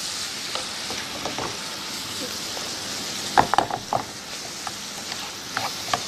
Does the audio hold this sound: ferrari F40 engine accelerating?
no